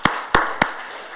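A church congregation at a Sunday service claps, heard as three sharp, evenly spaced close claps with a short echoing tail.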